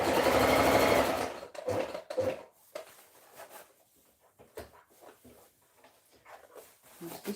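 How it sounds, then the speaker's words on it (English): A sewing machine stitches a dress in a fast, whirring run for about a second, followed by quieter intermittent clicks and fabric handling sounds nearby. "I'm stitching about just a bit."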